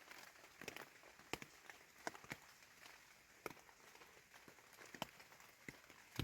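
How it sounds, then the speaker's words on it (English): Faint rain patters with scattered sharp drips and taps over soft hiss as camp is packed up on the Appalachian Trail. "Packing up in the rain."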